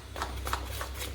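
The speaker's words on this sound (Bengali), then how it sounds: "দিয়ে ভালো করে মেশাচ্ছি, ফেটিয়ে নিচ্ছি একটু ভালো করে।" Coconut-flecked palm cake batter whisked by hand in a bowl, a soft rhythmic scraping in four or five strokes, close and quiet over a low steady hum.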